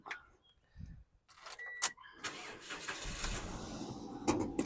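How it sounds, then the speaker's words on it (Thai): A 2006 Toyota Yaris 1.5 E engine cranks briefly and catches, settling into a steady idle, recorded close up with some handling noise and clicks around it. "เครื่องยนต์สตาร์ททีเดียวติดนะครับ"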